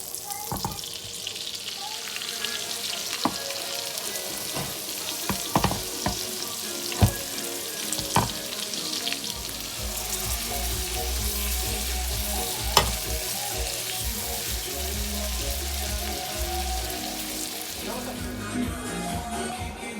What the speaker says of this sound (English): I have some butter and oil, and then I'm going to fry my prawns